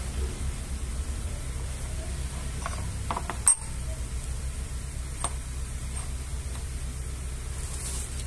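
A wrench works on a car engine during an internal engine flush, giving a few sharp metallic ratcheting clicks and one loud clack over a steady background hum, with no talking.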